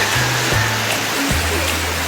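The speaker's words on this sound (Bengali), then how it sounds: "অনেক সুন্দর সুন্দর ঢেউ আসছে।" Sea waves break on the beach at Digha, a loud, steady rushing roar of surf with a faint low hum underneath.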